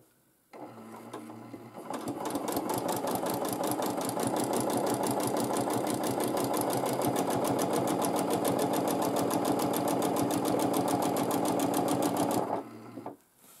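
A sewing machine doing free motion quilting runs in one long, steady burst of rapid needle strokes, starting up after a brief pause and stopping abruptly near the end; close and loud, with no talk.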